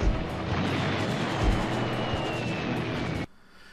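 Continuous barrage of game explosions and gunfire-like booms from Army Men: Sarge's Heroes 2, dense and loud for about three seconds before cutting off abruptly into quiet.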